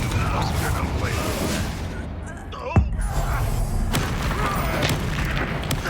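A Confringo explosion spell detonates in Hogwarts Legacy, a single sharp boom followed by a rumbling burst, set against a dense, busy game soundscape.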